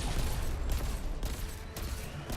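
Rapid gunfire from a hand cannon in the video game Destiny 2, dense and continuous with repeated loud shots over a busy low-end rumble, no talking.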